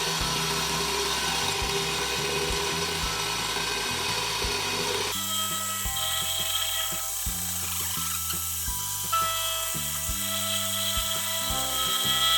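A milling machine roughly flattens a block of stabilized wood, giving a steady high mechanical whine with dense rattling cuts; the tone shifts partway through as the cutter engages differently, continuous and close with no talk.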